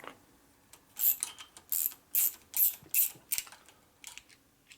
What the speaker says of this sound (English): Jam your wrench all the way on.